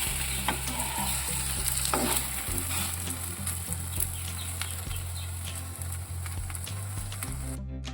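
Vegetable paratha frying on a pan, a loud close sizzle with spatula scraping and stirring sounds, continuous with a low steady hum beneath.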